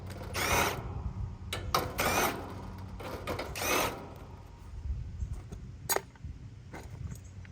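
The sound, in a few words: power drill removing screws from an air conditioner panel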